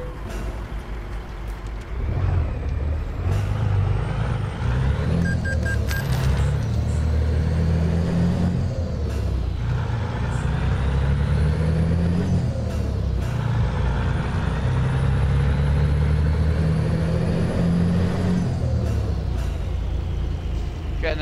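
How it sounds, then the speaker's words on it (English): A heavy truck engine drones and revs in Euro Truck Simulator 2, running with the Pro Mods pack, with hissing air-brake releases and dashboard tones over it, and a player's voice talking over the drive. "Your truck doesn't sound as good as mine."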